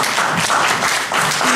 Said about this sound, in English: Let's give our children another round of applause.